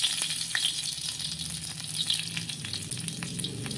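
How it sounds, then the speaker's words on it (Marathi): Garlic cloves frying in oil in a pan over a wood-fired stove give a steady, close sizzle with soft crackles throughout, no voices. "ह्यामध्ये आपल्याला तेल घालायचं आहे. ते 4-5 लसणाच्या पाकळ्या घालायच्या."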